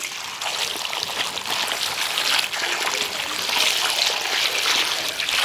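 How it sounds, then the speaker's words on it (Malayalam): Water trickles and drips steadily off freshly washed bilimbi fruit set aside to drain, a close, continuous soft splashing with no talk. "നന്നായിട്ട് വെള്ളം പോകണം"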